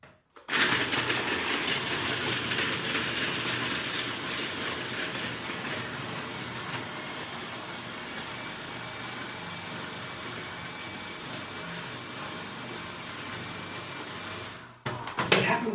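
A food processor blends very cold bananas with a steady, loud whirring grind that runs continuously for about fourteen seconds before cutting off abruptly, with no talk over it.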